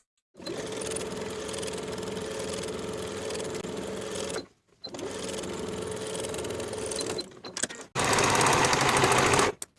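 A sewing machine stitches a curved seam on stretch denim jeans pocket pieces in three close, steady runs of rapid mechanical whirring, the first two long and the last one short and louder, with brief pauses between.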